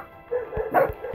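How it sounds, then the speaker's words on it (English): A pet dog barks indoors near a bunk bed, two or three short, close yips and woofs in quick succession over about a second, loud and clear with no talking. "My dog started barking because they thought they heard something."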